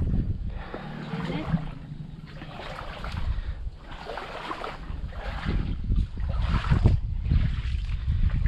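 Wind gusts in rough surges across open water during a crossbow fishing outing, a rushing, buffeting noise that swells and fades in waves, with faint voices now and then.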